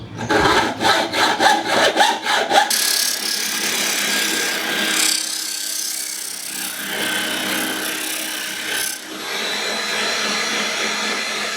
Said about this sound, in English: I'm gonna cut off the excess screws so they obviously don't protrude.